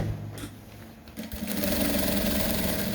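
A sewing machine runs steadily while stitching trouser fabric, a close, continuous mechanical whir that starts quietly and grows louder and more sustained partway through, with no talking.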